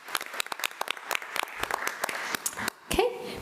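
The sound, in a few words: meeting audience applause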